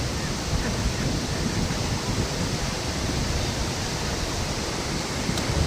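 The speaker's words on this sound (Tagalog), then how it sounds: "Ang lakas ng agos." A strong river current rushes near a hanging bridge, producing a loud, dense, continuous roar of water with wind buffeting the microphone and no clear speech.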